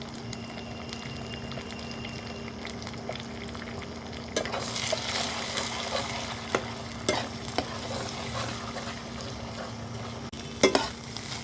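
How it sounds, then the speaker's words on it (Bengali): Eggs frying in hot oil in a pan, a continuous close sizzle and bubbling crackle with occasional sharper pops and spatter clicks, no talk. "এবার তেলের মধ্যে আমি ডিমগুলো ফাটিয়ে ভেজে নেব।"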